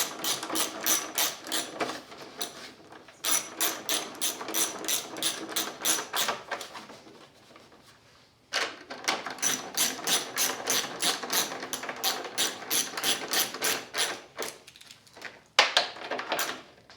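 Ratchet driving headlight bolts on a Honda Goldwing GL1500 motorcycle, long runs of quick rhythmic clicks broken by short pauses, close and fairly quiet, no talk.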